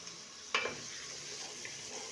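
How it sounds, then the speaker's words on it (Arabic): Carrots and zucchini fry in oil with a faint, constant sizzle, stirred once with a short clatter, then a soft scrape at close range; no one speaks. "الجزر والكوابه كذلك نخليهم يتقلاو شويه هاك"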